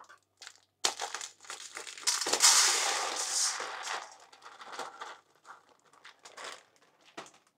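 Plastic bags of pearl barley, 900 grams each, are opened and handled, giving bursts of loud close crinkling and crumpling with quieter rustles between.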